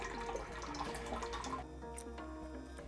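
Water from an RO/DI unit with a booster pump, pressure switch and auto flush runs steadily into a 1,000 ml container, a continuous close trickle and drip that fills the space throughout.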